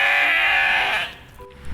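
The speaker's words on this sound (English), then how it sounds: "Got some goats over here." A goat bleats loudly and close by at a roadside spot in Pitillal, Puerto Vallarta, Mexico, holding one long call for about a second before it falls quiet.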